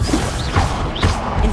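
The Confringo blasting spell cast in Hogwarts Legacy, loud fiery bursts and whooshing impacts with low thumps, two or three hits in quick succession close up.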